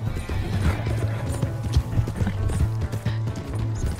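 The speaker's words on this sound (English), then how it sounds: "this horse is so much faster than Pudgy" A horse gallops with steady, fast clip-clop hoofbeats and neighs in the Red Dead Redemption II video game, the rhythmic hooves running loud and continuous throughout.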